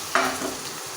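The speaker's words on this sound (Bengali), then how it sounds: "পেঁয়াজটা আমার ভাজা ভাজা হয়ে গেছে।" Chopped onion and garlic fry in oil in a wok, giving a short, soft hiss and crackle that swells briefly and then settles, with no voices.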